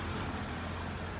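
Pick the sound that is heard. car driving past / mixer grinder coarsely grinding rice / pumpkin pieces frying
car driving past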